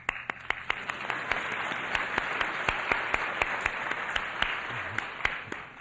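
An audience at a Kwame Ture speech claps steadily, with sharp individual claps repeating in a fairly even rhythm throughout, moderately loud and with no talk over it.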